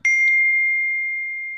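A single bright bell ding during an online meeting, struck once and ringing on as a clear, steady tone that fades slowly, heard alone with no talk.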